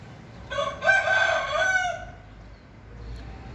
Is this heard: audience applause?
no